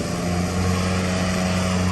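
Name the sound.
Troy-Bilt lawn tractor engine running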